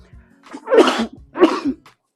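Two forceful sneezes in quick succession, set off by pepper while a pot roast is being prepared in a kitchen; each is a loud, breathy burst close to the listener, with no talking.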